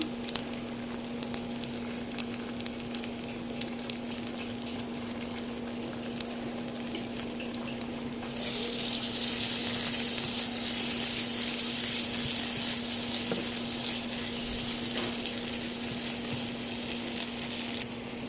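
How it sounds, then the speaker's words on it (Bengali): Garlic and ginger paste frying in hot oil for a chickpea curry, a steady close sizzle that jumps louder and brighter about halfway through, with a constant low hum underneath and no talking. "মশলাটা সুন্দর করে ভাজতে হবে"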